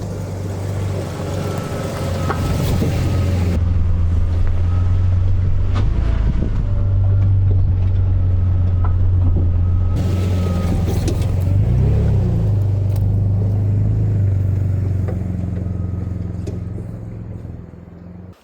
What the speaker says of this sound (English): We just gotta drive down there, so let's go.